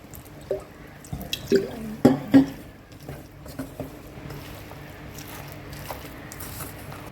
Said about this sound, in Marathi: आता आपण ह्याच्यामध्ये लागेल तसं थोडंसं पाणी घालूया